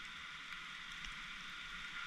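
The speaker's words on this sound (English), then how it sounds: "It's starting to hail." Hail mixed with heavy rain falls during a fast-moving storm in St. Paul, Minnesota, heard from under a tree as a dense, steady hiss with scattered faint ticks and patters throughout.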